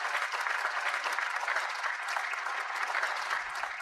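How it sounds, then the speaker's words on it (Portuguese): Steady, dense applause from a crowd, continuous clapping at an even level throughout with no voices on top. "Aplausos."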